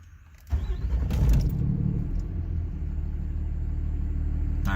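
A truck's diesel engine cold-starts with a sudden catch into a loud, close rumble that swells briefly and then settles into a steady idle, with no talking.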